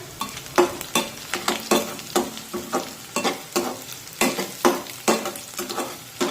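Onion and curry leaves fry in a pan while a spoon stirs them, giving a steady run of scraping strokes over a constant close sizzle, with no one talking.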